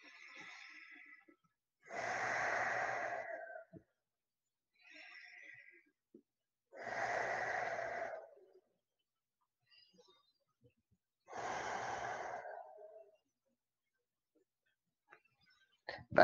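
Slow, deep breaths taken during a yoga stretch, three long airy exhalations spaced several seconds apart, close and clear, with softer inhales and near-silence between them.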